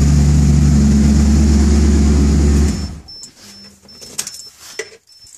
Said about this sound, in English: straight exhaust, muffler bypass, stock resonator X pipe, stock Cadillac converters.